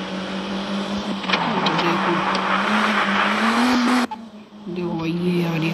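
A car in a 3D driving simulator game revs hard with a steady engine drone and tire squeal as it speeds along a hill road, cutting out briefly before resuming.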